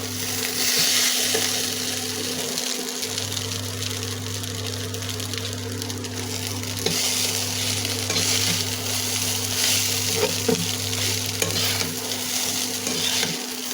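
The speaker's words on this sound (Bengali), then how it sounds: "সব ডিম পেঁয়াজগুলো এর সাথে মিশিয়ে নেবো" Eggs and onions stirred together in a frying pan for chow mein, a steady close sizzle with soft scraping and stirring throughout, under a constant low hum and with no talk.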